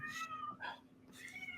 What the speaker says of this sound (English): My cat is going crazy over something.